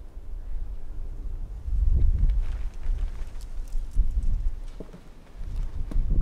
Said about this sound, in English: that wind is pretty bad.